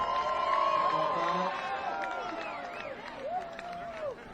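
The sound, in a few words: football crowd cheering after a penalty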